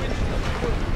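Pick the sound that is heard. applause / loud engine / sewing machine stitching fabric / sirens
loud engine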